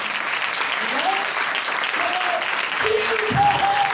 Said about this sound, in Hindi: इस बात पर जोरदार तालियां बजा दे।